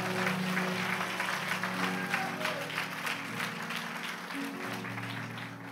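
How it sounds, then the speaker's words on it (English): A congregation at a ministry service claps hands together in a steady, even patter while music plays underneath, the sound moderately soft and continuous. "Clap your hands"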